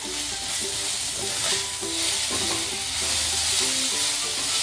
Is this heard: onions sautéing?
yes